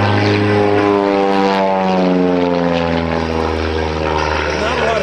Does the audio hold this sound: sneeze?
no